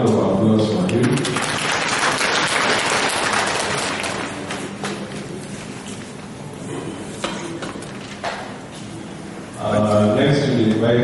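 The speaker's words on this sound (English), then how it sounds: "A round of applause for him" Audience applauds at a dissemination workshop for a monitored project, a steady broadband clatter of clapping filling the middle of the clip, with a speaker's voice at the beginning and end.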